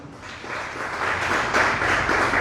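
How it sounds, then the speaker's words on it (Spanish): Church congregation applauding at a Spanish-language service, a steady broadband wash of clapping that holds moderately loud throughout and swells slightly toward the end, with no voices standing out. "Denle un aplauso al Señor"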